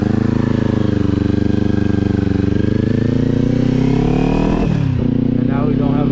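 Kawasaki motorcycle fitted with a Leo Vince exhaust cruising down a road, a loud steady engine drone that shifts pitch near the end as the throttle changes.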